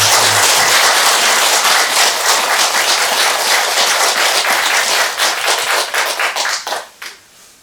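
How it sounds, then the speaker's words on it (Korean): A crowd at a Buddhist temple dharma service applauds loudly and continuously, the dense clapping thinning into scattered claps before fading out. "성화 스님을 큰 박수로 좀"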